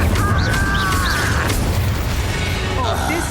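An Incendio fire spell in the Hogwarts Legacy video game gives a loud, dense whooshing roar of flame that fills the whole moment, with a voice and whistling tones mixed in.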